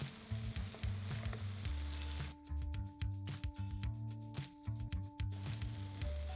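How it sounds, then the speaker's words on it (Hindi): Chickpeas roasting in a pan with ground spices, roasted cumin, black salt, crushed pepper and dried fenugreek sizzle steadily, with a continuous hiss and irregular stirring scrapes toward the end, close and moderately loud. "मसाले के साथ छोलों को हम अच्छे से भूनेंगे 2 से 3 मिनट के लिए"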